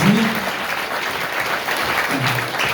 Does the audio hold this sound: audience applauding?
yes